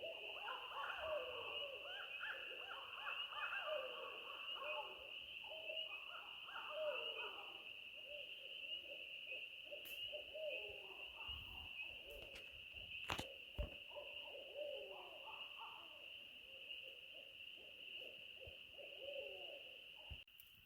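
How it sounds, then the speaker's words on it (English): Owls hoot repeatedly at a spring canoe-camping site in the Adirondacks, close and loud calls in overlapping series over a constant insect-like drone, with a few sharp clicks. "those owls flying right into our camp like that"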